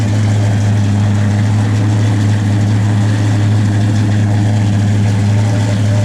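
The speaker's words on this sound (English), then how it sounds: "Give a little rev so you can hear it." 1971 Plymouth Duster Twister engine running with a steady low rumble, a loud, close, even drone with no clear rise in pitch.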